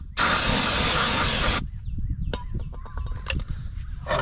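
Cleaner spray hisses in one strong burst of about a second and a half onto the front brake parts of a 2014-2019 Toyota Corolla, followed by quieter handling clatter and clicks close by.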